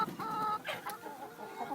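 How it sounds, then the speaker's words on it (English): Chickens clucking close by in a large free-range farm flock of about 900 hens, with a few overlapping calls and short squawks over a quiet background. "We got about 900 chickens out here,"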